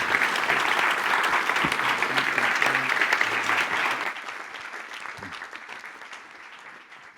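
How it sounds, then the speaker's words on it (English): A conference audience applauds the speakers after a Q&A session: dense, loud, sustained clapping from a large crowd that holds steady, then thins and fades toward the end, with no talking over it. "Can we get please get a big hand for Tristan and Gary Hoffman"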